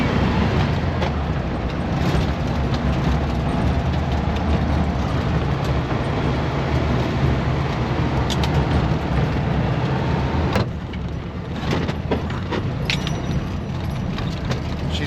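An old Volkswagen Beetle engine drones loud and steady from inside the moving car, with road rumble and rattles throughout, and the pitch drops briefly as the car shifts before settling back.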